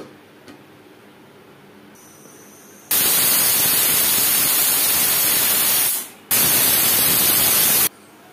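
A pressure cooker releasing steam while cooking Bihari-style mutton and potato curry gives two long, loud, steady hissing bursts, the second after a brief pause, with no talk.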